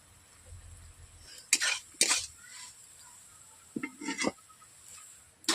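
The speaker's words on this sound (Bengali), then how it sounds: "কড়াই থেকে থালার মধ্যে আমি ঢেলে নিচ্ছি" Food is scraped and tipped from a wok onto a plate, with a few sharp metallic clanks and scrapes separated by quiet pauses, close and moderately loud.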